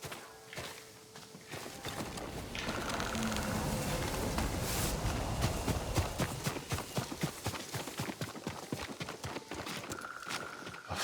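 Hooves of a farm horse clip-clop in a steady walking rhythm in the video game Ghost of Tsushima, moderately near, over a soft ambient background of wind and game atmosphere.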